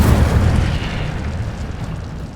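A fire spell blast in the Hogwarts Legacy video game erupts as a loud, rumbling burst that swells at once and then slowly decays into a roaring wash of flame.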